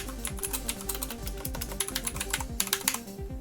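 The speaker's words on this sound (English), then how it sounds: "Otemo blue switches are tactile and clicky, meaning it will produce this audible click sound" ABKO Hacker K640 mechanical keyboard with blue tactile, clicky switches being typed on, giving a quick, irregular stream of sharp, close clicks and clacks with no voices.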